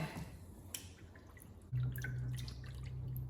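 Leather soaking in lukewarm water for a holster: faint drips and light splashing, then a steady low water hum from about the midpoint, fairly close and with no talking.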